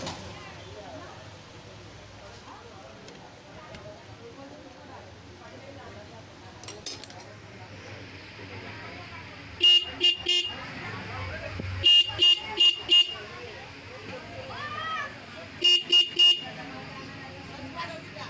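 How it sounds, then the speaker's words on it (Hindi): Several short bursts of a Honda BS4 Unicorn motorcycle horn honk in quick clusters during horn adjustment, with a mechanical hum and some talking underneath. "इसका हॉर्न ऐसा बज रहा है।"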